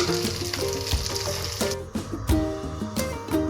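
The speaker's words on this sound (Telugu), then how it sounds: "మనం ముందుగా ప్రిపేర్ చేసి పెట్టుకున్న చికెన్ అయితే ఇందులో వేసేయాలండి వేసేసి బాగా కలపాలండి" Marinated Andhra-style chicken 65 pieces sizzling and frying in a hot pan while being stirred, a steady crackling hiss with scraping and clinking of the spoon, mixed with light background music.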